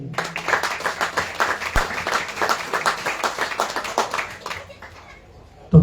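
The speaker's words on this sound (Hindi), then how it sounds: "कथा में जितने लोग भाग लिए हैं सभी के लिए ताली बजाइए" An audience at a Hari Katha devotional gathering in Holland claps in a steady burst, many hands patting at once for several seconds before fading out, with some voices and children audible beneath.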